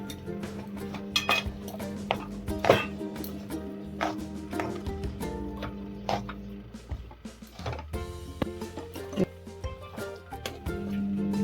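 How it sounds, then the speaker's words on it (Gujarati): A spoon stirs grated coconut and unsweetened mawa in a pan for date biscuits, making repeated metallic clinks and scrapes against the pan in an irregular rhythm, close and clear, with no talking. "ટોપરાનું છીણ એડ કર્યું છે અને મોળો માવો એડ કરીશું બધી જ વસ્તુને સરસ મિક્સ કરી લઈએ"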